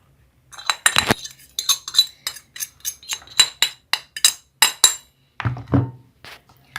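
Metal cutlery stirs spices into food mixed with eggs, producing a quick, irregular run of close clinks and scrapes against the dish, with a duller thud of heavier scraping near the end.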